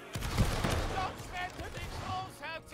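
Musket volley gunfire in a Roblox military battle game: a few sharp, loud bursts of shots early on, with voices talking over the battle and continuing afterward.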